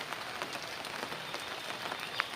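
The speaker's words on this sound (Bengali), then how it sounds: "দেখেন এই যে বৃষ্টি আর বৃষ্টি।" Heavy rain pours steadily on a surface, a dense constant patter with no voices.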